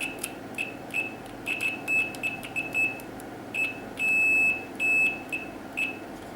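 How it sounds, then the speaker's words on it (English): A Brymen TBM digital multimeter in continuity mode emits sharp electronic beeps, some short and choppy, others held for about half a second, as the probes make scratchy, intermittent contact. "no problems at all with the speed and responsiveness of the continuity tester"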